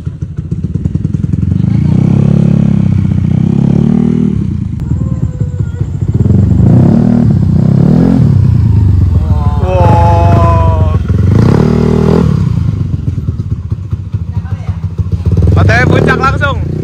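A loud bored-out Yamaha Aerox scooter engine of nearly 300cc runs close by, revving up and down repeatedly, its pitch rising and falling with occasional clunks.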